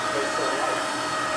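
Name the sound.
handheld vacuum cleaner running during car interior detailing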